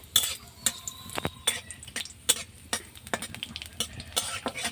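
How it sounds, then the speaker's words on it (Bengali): Raisins frying lightly in ghee in a pan, with quick scraping stir strokes and clinks over a soft sizzle, close up, in steady bursts with no talking. "কিশমিসটাকে একটু হালকা ভেজে নেবো"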